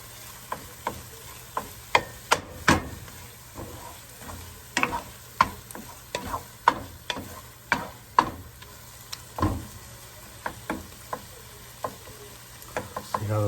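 A utensil scrapes and knocks against a pan of browning onions for French onion soup, an irregular run of sharp taps and scrapes over a low steady sizzle, close and alone.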